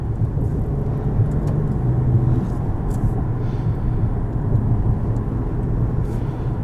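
A 2019 Maserati Quattroporte S engine heard from inside the cabin while driving, a steady low rumbling drone that holds without gaps and swells gently in places.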